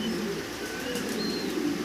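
Restless pigeons coo softly in a low, rolling murmur with faint wing fluttering and a few thin chirps, close by and steady throughout.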